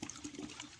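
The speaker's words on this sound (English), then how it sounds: "I'll finish pouring my nitrosol in this bucket, and I'm still stirring." Nitrosol liquid being poured into a bucket while being stirred, a steady, gushing watery pour close by with no talk.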